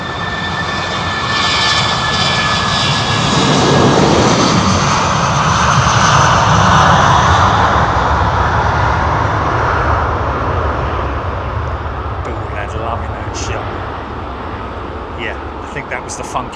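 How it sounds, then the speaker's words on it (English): A Virgin Atlantic Airbus A350-1000 jet airliner at London Heathrow Airport roars past, a broad sustained engine rumble that swells toward the middle and slowly fades, with a voice speaking over the later part. "Nice example of an A350-1000 with Virgin Atlantic."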